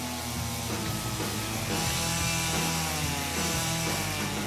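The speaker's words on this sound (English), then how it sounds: "Miss Francesca, here's your chainsaw" Loud, sustained chainsaw noise as the blade works through a wooden pole, the engine droning at a fairly even pitch with slight surges, no talking.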